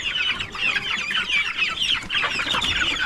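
Chickens and young pullets cluck steadily on a farm, a dense, continuous flock chatter of overlapping clucks close by with no pauses.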